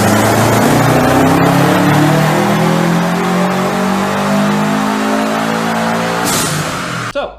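A 2013 Subaru Impreza WRX STI with a front-mount intercooler revs hard on a dyno, the engine note climbing steadily in a loud sustained pull before cutting off sharply near the end.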